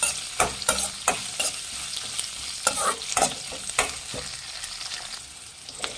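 Capsicum frying in hot oil for bisi bele bath, a steady sizzle broken by repeated sharp scraping stirs of a spatula against the pan, close and fairly loud with no voices.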